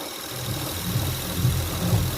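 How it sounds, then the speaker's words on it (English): 2004 Honda Accord engine idling with a suspected alternator or power steering pump whine, a steady close low hum with a faint thin whine above it and slight pulsing vibration. "the alternator is making noise again."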